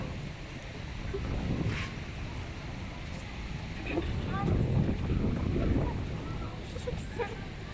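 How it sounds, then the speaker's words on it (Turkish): Steady wind buffeting the microphone outdoors, a low continuous roar with gusts, and voices talking faintly underneath. "Zaten rüzgar da var."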